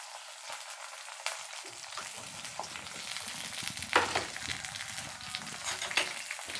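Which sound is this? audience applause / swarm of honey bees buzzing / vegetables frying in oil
vegetables frying in oil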